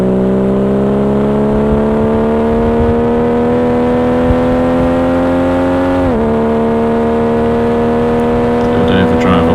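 A Triumph TR6 race car pulls hard uphill in overdrive at Mallory Park during a sprint, its engine a loud, steady, rising drone. A brief dip comes mid-clip as the gear changes, then the pitch climbs again.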